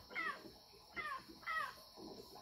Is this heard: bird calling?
yes